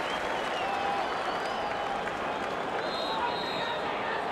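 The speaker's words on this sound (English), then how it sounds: "the crowd, this full house, they're giving the Australians wonderful support here in Sydney this year" A full-house crowd at a Sydney one-day cricket final between Australia and Pakistan applauds in a dense, continuous roar, while a commentator speaks over it.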